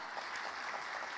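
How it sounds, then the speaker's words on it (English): An audience at a legal excellence awards event in India claps, the applause soft and somewhat distant, a brief even patter with no voices. "Can we please have a big round of applause as we look forward to start this event on a sharp note?"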